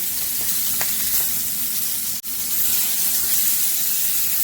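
Loud, steady sizzling of salmon skin frying in a hot pan, close and continuous with brief crackles and a momentary dropout.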